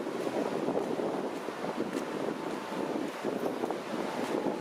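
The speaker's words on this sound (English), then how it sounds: "Some big waves there today." Steady roar of surf at Mazatlán, with big waves breaking continuously, rough and wind-buffeted, no voices.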